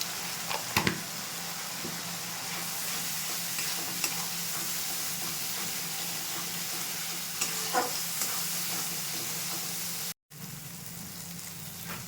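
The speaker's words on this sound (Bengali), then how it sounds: "মশলাটাকে ভালোভাবে আমি কষিয়ে নেব।" Masala with red chili powder fries and is stirred in a pan for kochur mukhi curry, a steady close sizzle broken by occasional scraping stir strokes, with no talk.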